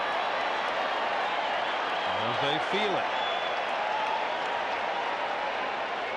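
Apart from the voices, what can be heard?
baseball crowd noise growing at Rockies game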